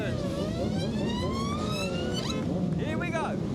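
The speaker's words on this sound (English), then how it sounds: "And here goes the ambulance." An ambulance siren sweeps up and down steadily, fairly close, with crowd noise and chatter underneath, in Glastonbury on a bank holiday.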